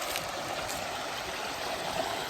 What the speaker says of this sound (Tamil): இதுவே ஒரு சின்ன ஒரு ஆறு மாதிரி அழகாக தண்ணி போயிட்டுருக்கு.